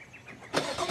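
A car engine turns over and catches abruptly about halfway through, a short, loud burst of motor noise after a quiet lead-in, with no talking.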